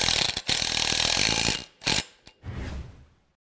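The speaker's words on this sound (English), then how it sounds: "Again, carriage bolt, washer, nylon nut, and go ahead and tighten it down." A carriage bolt with a washer and nylon lock nut is tightened on a knife grinder mod kit for a Grizzly or Shop Fox unit: close, dense bursts of ratcheting clicks, a few sharp pauses, and a final softer metallic rattle.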